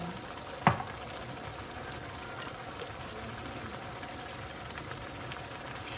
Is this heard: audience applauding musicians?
no